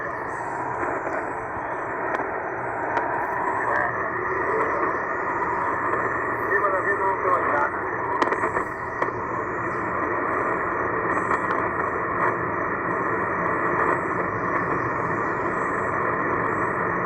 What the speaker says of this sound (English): there was an actual upper sideband mode signal there